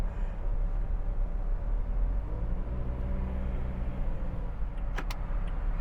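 A 2020 Toyota Yaris 1.2 Sport pulls away with a steady low engine and road rumble heard from inside the cabin, and a couple of brief clicks come near the end.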